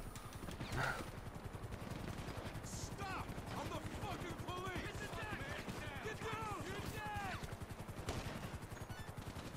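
Gunfire in GTA V crackles as scattered shots and rapid bursts at moderate distance. It sits under a steady mechanical rumble, and bits of in-game voice and chatter mix in.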